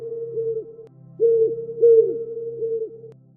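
A man gives owl-like hoots, imitating an owl's call out in a cold winter night; several drawn-out, steady hoots in a short series, fairly close and clear, with no other sounds around them.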